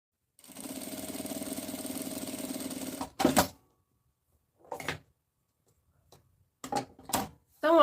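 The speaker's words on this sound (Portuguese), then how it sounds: "Então, ó, passei a costura." A sewing machine runs a straight seam on a small fabric bag, a steady close whirring buzz for about three seconds, followed by scattered handling clicks and thumps of the fabric and machine.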